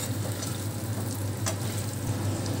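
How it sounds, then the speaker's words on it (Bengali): Spice masala fries in a pan for a Bengali pabda fish curry, a dense steady close sizzle with one brief scrape of the spoon, no talk. "ভাজা ভাজা করে নেবো বেশি মশলাটাকে।"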